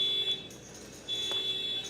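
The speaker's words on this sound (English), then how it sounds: "I hear someone's car alarm." A car alarm goes off outside a poker room, a steady high electronic tone sounding alone, cutting out briefly partway through before resuming at a moderate, somewhat distant level.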